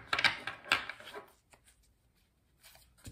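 A Mystic Monday tarot deck is shuffled in two quick, close riffling bursts of cards, followed by a near-silent pause and a faint rustle at the end.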